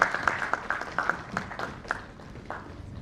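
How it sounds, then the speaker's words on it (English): Applause from a leadership summit audience as a woman is called to the stage, scattered sharp claps from a modest crowd, moderately faint and thinning toward the end. "We can give her a round of applause."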